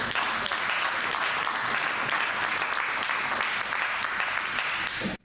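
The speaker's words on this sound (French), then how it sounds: "Est-ce qu'on peut applaudir pour la parole de Dieu?" A congregation at a French-language church service breaks into sustained applause, a dense, steady wash of many hands clapping at even loudness, cutting off abruptly at the end.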